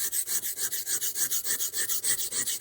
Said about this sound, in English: Changing my charcoal right now. Ooh. I'm gonna sharpen it.